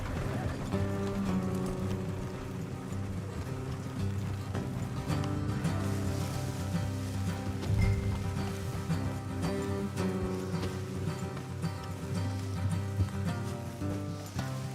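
Horses gallop in the Red Dead Redemption 2 video game, their hooves a rapid, continuous clip-clop over a steady bed of game sound and music for the whole stretch.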